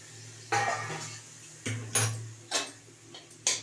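Metal clinks and clatters sound as the lid comes off a kadai of boiling green mango dal: a few sharp, close knocks spaced across a few seconds, over a faint low hum in a quiet kitchen.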